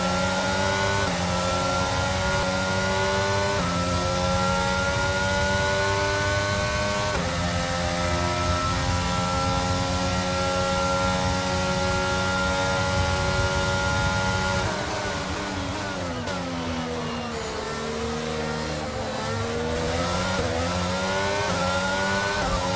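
Formula 1 race car engine in the video game F1 22 at the Saudi Arabia Grand Prix, a loud continuous high-revving whine rising through gears, with a dip and shifting pitch as the car slows and reaccelerates, no talking.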